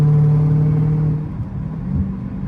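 A Dodge Hellcat Redeye fitted with catless mid pipes drones with a steady engine tone and a sustained whine, loud and close at first, then settling into a lower rumble as the pitch drops.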